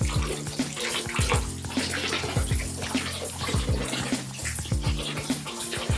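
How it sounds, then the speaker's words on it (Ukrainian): Cold spring water pouring from a pipe at a mineral spring, a steady close splashing gush with bubbling and gurgling throughout. "через трубочку, теж холодна водичка"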